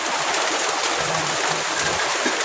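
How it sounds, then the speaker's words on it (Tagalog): Heavy rain pours down during a flood, a dense, steady roar of water and drops close by with no break. "Malakas ang ulan at bumabaha na naman."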